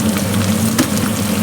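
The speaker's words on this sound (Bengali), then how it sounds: "ভালো করে ভাজা ভাজা করে নেব।" Carrot and a little green chilli frying in a pan with a pinch of salt, giving a steady close sizzle with a brief louder crackle partway through.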